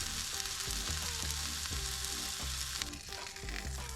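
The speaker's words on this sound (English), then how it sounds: "we're going to add 1 or 2 rounds to the pan" Smash burger patties sizzle in a hot pan with a constant bright frying hiss, under a repeating low rhythmic background pattern.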